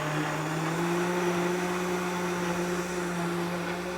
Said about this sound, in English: Yeah, Shy Chica, it's the easiest way to clean a blender.